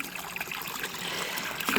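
Water trickles and splashes steadily as it is poured to refill a chicken drinker on a rural farm, a close, continuous stream lasting under two seconds with no talk.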